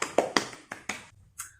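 A primary school class claps in a handful of sharp, distinct beats, close and crisp, then falls quiet before a brief high voice sound at the end.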